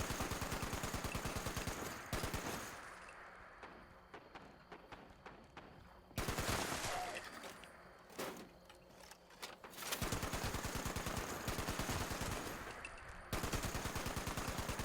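Rapid automatic gunfire from a range gun in Fallout 76 rattles in long sustained bursts, separated by gaps with scattered single shots, loud and relentless.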